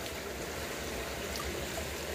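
Hot mineral spring water flows steadily at Bath Fountain in Jamaica, making a continuous broadband rush with no break. It sounds close and even, and no voices are heard.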